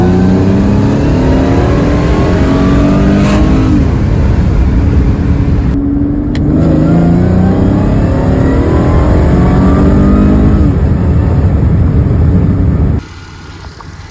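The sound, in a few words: Mercedes C32 AMG engine revving during acceleration pull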